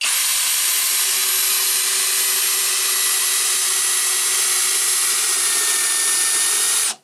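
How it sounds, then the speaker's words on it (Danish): A Skil 3071 cordless drill drives a screw into a piece of wood, a loud continuous high-pitched motor whine held steady for the full seven seconds before cutting off abruptly. "nu vil jeg så se, hvad den kan med den her skrue her, og hvor langt jeg kan få den møjet ned i det her stykke træ her"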